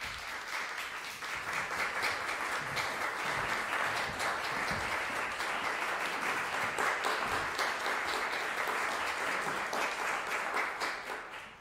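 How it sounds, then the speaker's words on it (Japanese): Concert audience warmly applauding a tenor and soprano as they come on stage: sustained, even clapping from a full hall, rising quickly, holding steady for about ten seconds, then fading. "それでは盛大な拍手でお迎えください。"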